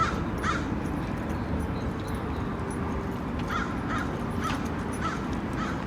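A crow caws several times from a distance in a suburban neighborhood at lunchtime, the calls faint over a steady broad outdoor rumble of wind or traffic.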